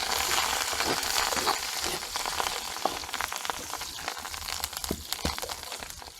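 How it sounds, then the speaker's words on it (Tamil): Onions fry in hot oil with a dense, crackling sizzle nearby. Sharp pops and spits break through now and then as the frying goes on steadily, and no voices are heard. "வெங்காயம் பொரிஞ்சு வந்து கொண்டிருக்குது பாருங்க"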